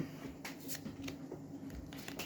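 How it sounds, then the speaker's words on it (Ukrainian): Soft papery riffles and flicks of a tarot deck being shuffled, with cards falling out, several quick bursts close by, quiet with a faint hum beneath. "Господи, карти випадають"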